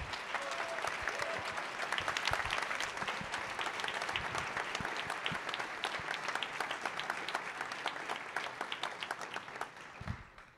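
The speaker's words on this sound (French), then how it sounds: "encore un chaud applaudissement" Steady applause from a closing ceremony audience at a hackfest, honoring the volunteers: many hands clapping together, sharp and dense, fairly distant and even, tapering off near the end with no talk over it.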